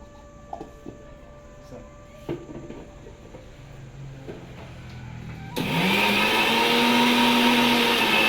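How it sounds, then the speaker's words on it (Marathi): An electric mixer grinder blending gravy for a spicy brinjal curry starts up abruptly partway through, a loud steady whirring drone that runs to the end after quieter kitchen sounds. "मिक्सरचं आपलं काम झाल्यामुळे बटन बंद करून ठेवलं आहे"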